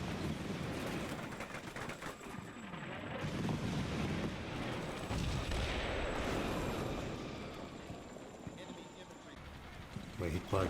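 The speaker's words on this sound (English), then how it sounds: "We're hit by Cobras above and AA guns to our flanks." Anti-aircraft gunfire in the Combat Mission Cold War video game, with a dense, continuous roar of bursts and rumbling blasts that stays loud and busy throughout, overlaid with wind-like noise.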